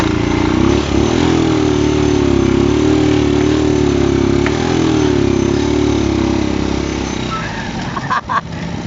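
A motorcycle with a faulty connecting rod runs steadily and loudly, smoking heavily while carrying a heavy load near a bus area in Tutuban, its engine drone dipping briefly toward the end.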